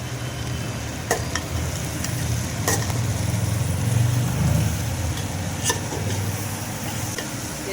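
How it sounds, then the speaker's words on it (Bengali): Rice, lentils and mixed vegetables being sautéed together for vegetarian khichuri, with a steady low sizzle and stirring scrapes throughout and a few sharp spoon clinks against the pot. "চাল ডাল সব সবজি দিয়ে আমি কষে নিলাম"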